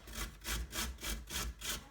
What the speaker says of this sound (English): I'm ready to shred it with my little grater here.